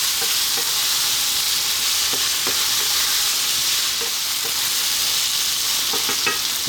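Parboiled potatoes frying in a pan for an eggplant potato curry give off a loud, steady, close sizzle with occasional faint clicks of stirring, no voices.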